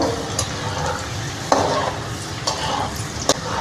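Garlic fries in hot oil in a pan for a Kolhapuri puffed rice chivda, a steady close sizzle broken by several sharp scraping stirs of a spoon against the pan.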